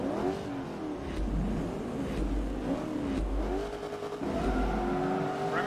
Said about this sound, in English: Look at that wheel spin.